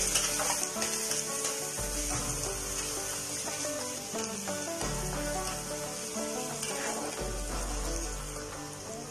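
Onions fry in a pan for vegetable kofta curry, a steady close sizzle with crackling spatter and occasional stirring scrapes over about nine seconds.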